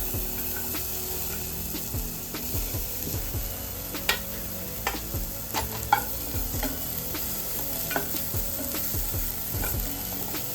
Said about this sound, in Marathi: कढई आता गरम झाली, आता त्याच्यात पहिलं कांदो टाकून घेऊया